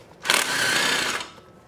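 A long socket wrench works a 10 mm bolt loose on a Honda Ruckus scooter, giving about a second of steady, close, buzzy mechanical whirring that starts abruptly and fades, with no talk over it.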